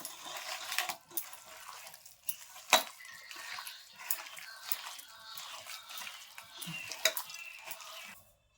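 Jackfruit pulp and egg being kneaded by hand in a bowl, soft squelching and wet slapping with occasional clinks against the dish, close and fairly quiet, in uneven bursts.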